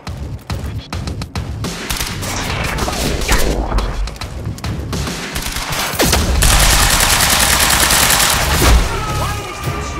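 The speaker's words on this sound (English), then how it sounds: "Why are they still shooting?" Gunfire rattles through a Quantum Break firefight on Xbox One: sustained automatic bursts and sharp shots, loud and close, thickening into a dense barrage midway with booming impacts.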